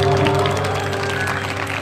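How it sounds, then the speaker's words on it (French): Applause from a theatre audience for a pianist during a theatre occupation gathering, a continuous clapping texture layered over a sustained tonal hum from the room. "est-ce qu'on peut avoir un tonnerre d'applaudissements s'il vous plaît pour Franck au piano?"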